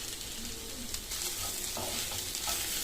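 Sliced okra fries with chilli and cumin powder in a pan for bendakaya fry, a continuous crackling sizzle with soft scrapes as the spices are stirred through, close and steady.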